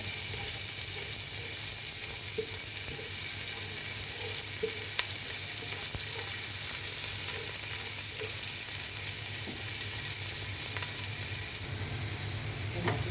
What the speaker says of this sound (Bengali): প্রথমে তেল দিয়ে দিব ও পেঁয়াজ দিব পেঁয়াজটা একটু ভেজে দেবো